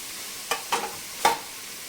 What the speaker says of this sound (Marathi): आता हा छान आपण तुपामध्ये परतून घ्यायचं आहे